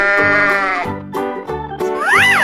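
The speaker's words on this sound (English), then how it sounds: "Sheep." A sheep bleats several times in close, loud, quavering calls, each wavering cry separated by brief gaps, the last one rising and falling sharply, with no voices present.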